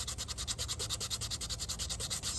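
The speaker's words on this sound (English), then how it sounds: "once we go over it with that 1500 grit" Fine 1500 grit sandpaper rubbed back and forth over a spray-painted wheel rim, a quick even rasping stroke repeated about eight times a second, close and soft with no talk.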